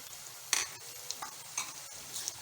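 Turmeric and ginger-garlic paste fry quietly in a pan while a spoon stirs them, giving faint sizzling with a few scraping strokes at irregular intervals and no voices.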